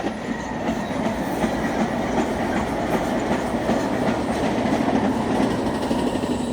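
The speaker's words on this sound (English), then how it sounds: "It's an Amtrak train running by right now." An Amtrak passenger train rolls steadily past at close range, a continuous loud rumble with faint clickety-clack from the wheels throughout.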